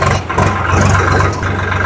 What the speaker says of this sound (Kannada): ಅಂತೂ ಇಂತೂ ಟ್ರ್ಯಾಕ್ಟರ್ ಹೊಡೆಯೋದು ಗೊತ್ತಾಯ್ತು ನನಗೆ